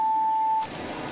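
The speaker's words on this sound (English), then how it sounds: "That's the buzzer." Steady electronic buzzer tone at an X Games men's street skateboard qualifier, a single sustained beep lasting about half a second over crowd and arena noise, then cutting off.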